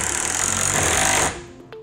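A power drill bores up into a ceiling joist with a loud, close, buzzing whine, then winds down and stops abruptly after a second or so.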